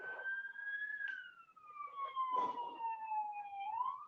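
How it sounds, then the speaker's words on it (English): A fire siren wails steadily in the distance, its pitch rising and slowly falling in a long continuous sweep, with faint background rustling and no talk over it. "the fire siren just went off"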